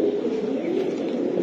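A male racing pigeon coos close by in a low, throaty, continuous burble over about a second and a half, with no voices.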